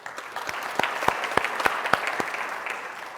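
Audience applause for the judges at the 2025 NSpire Startup Slam, a live startup pitch event: steady clapping from a crowd with sharp individual claps standing out, sustained for the whole stretch.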